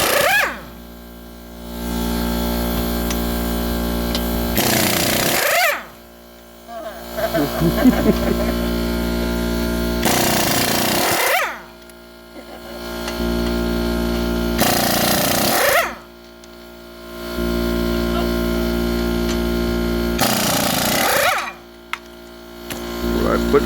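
An impact wrench on lug nuts of a 2007 Chevy Impala hammers loudly in long sustained bursts separated by brief pauses, with a voice talking in between.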